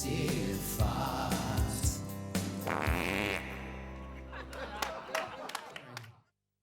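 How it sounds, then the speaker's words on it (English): A massive, drawn-out fart sound rumbles low and loud for about six seconds, with several separate blasts and faint chuckling underneath. "From our bottoms, we send you this massive fart."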